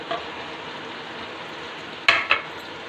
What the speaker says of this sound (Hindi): अब मैं अरबियों को और आलू को इकट्ठा फ्राई कर लूँगी